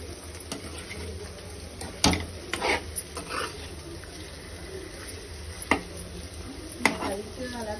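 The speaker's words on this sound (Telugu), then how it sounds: "లైట్గా అలా కలుపుతూ కొంచెం బ్రెయిన్ ఫ్రై చేసుకోవాలి మెల్లగా." Brain fry is stirred gently in gravy in a pan: soft, scattered spatula scrapes and rubs, a few sharper knocks against the metal, over a faint low sizzle, with a voice talking quietly at times.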